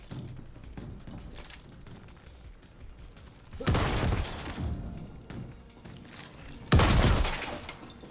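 Grenade blasts in the space shooter game Star Citizen, two loud bursts a few seconds apart, each a sharp crack followed by a rumbling, crackling tail, over quieter background noise.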